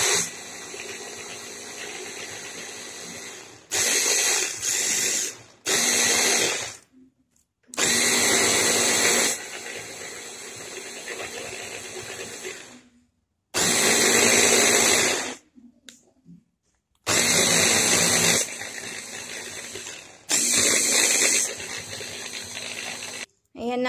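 An electric blender purees vegetables for a pasta dish in loud, steady whirring bursts that stop and start several times, with quiet gaps between the runs.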